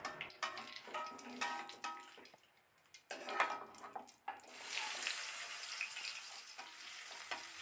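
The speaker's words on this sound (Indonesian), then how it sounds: "terus habis itu langsung aku numis bawang merahnya" Shallots being sautéed in a frying pan for an Indonesian home-cooked dish: a few clinks and scrapes of utensils, then a loud, steady, close sizzle that fills the rest of the clip.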